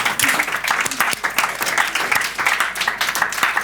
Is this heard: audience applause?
yes